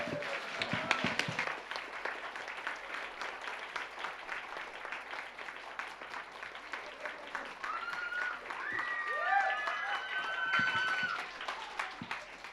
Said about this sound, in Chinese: 所以我们要掌声，对。